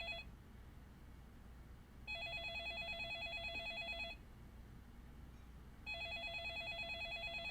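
A telephone rings in the video game Yakuza 4, an electronic trill in two bursts of about two seconds each with a short pause between them, fairly quiet over a low background hum.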